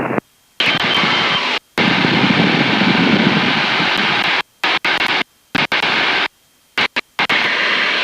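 A Pitts S2C aerobatic biplane's engine drones loudly and continuously from inside the cockpit during flight, broken by repeated abrupt dropouts to silence.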